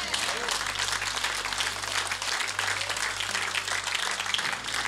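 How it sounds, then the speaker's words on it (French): A church congregation applauds in dense, sustained clapping that fills the room evenly from start to finish, with a low hum beneath it. "Acclamons."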